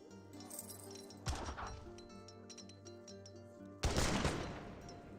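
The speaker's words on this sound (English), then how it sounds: "Heard a bit of gunfire." Gunfire in the strategy game Age of Empires 3 comes as two bursts of musket volleys, faint and set against a steady, tonal game soundtrack.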